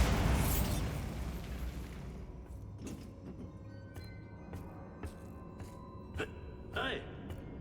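A Bombarda blast spell in Hogwarts Legacy bursts loudly with a booming, rumbling explosion that fades over a couple of seconds, followed by scattered faint pops and thuds.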